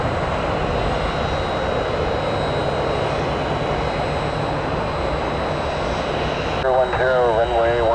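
A jet airliner's engines roar steadily on the runway at Tampa International before takeoff, a loud, continuous broadband rumble that stays even throughout, with a brief voice cutting in near the end.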